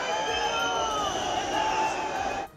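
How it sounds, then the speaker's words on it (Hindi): Crowd of protesters in uproar at a tunnel barricade in Shimla, a dense, continuous roar of shouting and babble that holds steady for over two seconds before cutting off abruptly. "टनल के अंदर घुसने की कोशिश में बहुत देर तक हंगामा हुआ"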